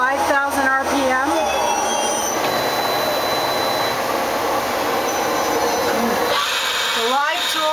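A Tsugami BS-20B Mark III CNC Swiss lathe runs a program with its main spindle at 5,000 RPM. A loud, continuous mechanical roar carries rising and falling whines as the spindle ramps up at the start and again near the end.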